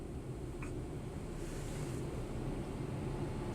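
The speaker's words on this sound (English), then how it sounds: "Activating wash, please wait. Enter the wash." A Ryko SoftGloss XS 2 automatic in-bay car wash at a Speedway station running, a steady low rushing and rumbling wash heard from inside the car.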